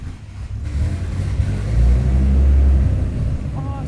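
A race car engine with around 400 horsepower rumbles loudly and swells into a heavy rev at full volume, then eases slightly.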